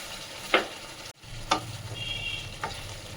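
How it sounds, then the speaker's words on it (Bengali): Ground cumin and coriander frying in a pan for a Bengali fish curry, with a sharp hiss and crackle as a little water is added, then a steady low sizzle with a few brief bursts. "আমি এর মধ্যে অল্প করে করে একটু জল দিচ্ছি।"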